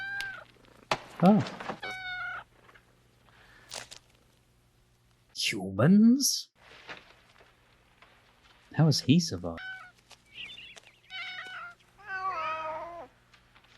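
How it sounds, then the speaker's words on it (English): Several cats meow and yowl in the 1976 film Logan's Run, with a string of sharp, wavering cries spread across the stretch, some loud and close, under scattered film dialogue and people talking over it. "It's a whole lot of cats."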